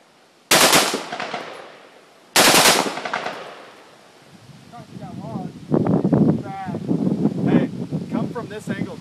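A full-automatic gun fires two sharp, loud bursts outdoors, close to the microphone, each followed by a fading ring; afterwards people talk and laugh over light wind noise.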